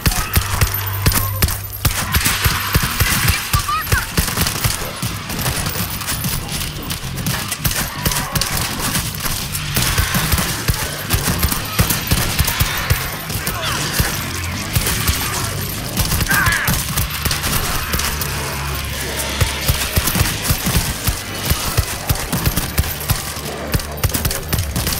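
Rapid gunfire rattles nearly nonstop in World War Z, bursts of shots and clattering impacts layered over a low drone, loud and dense with no clear speech.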